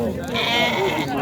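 Lambs at a sheep market bleat in a short, wavering cry, close by and loud amid the crowd's chatter and voices.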